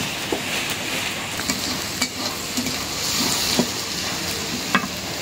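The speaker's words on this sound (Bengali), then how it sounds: "এই যে রসুনটা ভাজা ভাজা করে দিব" Garlic fries in a pan with a soft, steady sizzle, while a utensil stirs it and scrapes and taps the pan in scattered knocks. The sound is close and moderate in level, with no voices.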